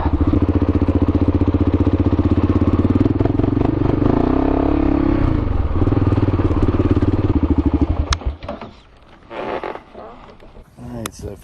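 A 2012 Kawasaki KLR650, nearly stock, runs with a loud, close single-cylinder thump and rumble that holds steady for about eight seconds, then drops off into quieter idling and rustling, with some wind and handling noise.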